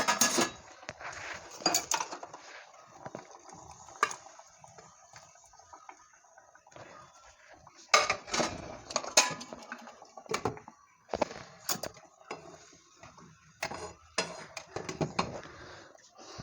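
Paneer and butter are stirred in a cooking pan, with a spoon scraping and clinking against the metal in irregular bursts, some quiet pauses, then busier clatter toward the end.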